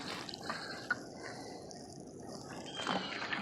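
Blackstrap molasses is poured over garden plants and soil, giving a soft, faint trickling and dripping with a few small splashes.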